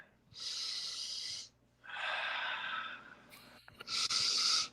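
A voice imitates loud, forceful sniffing of crushed Oreos in three long snorting bursts separated by short pauses, close and breathy.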